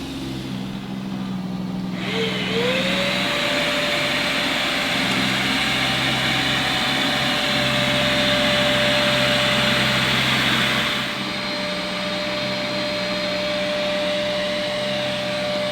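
Eufy E20 robotic vacuum cleaner running on maximum suction, a steady close whirring roar with a constant motor whine that holds evenly throughout, easing slightly near the end.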